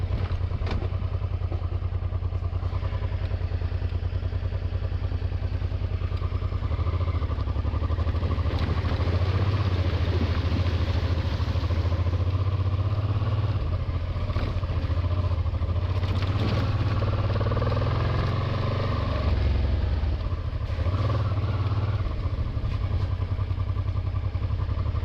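A Honda XL700 motorcycle rides along a gravel service road on the Sturmbock line, its engine droning steadily and loud up close for the whole stretch, with tyres crunching and clattering over stones.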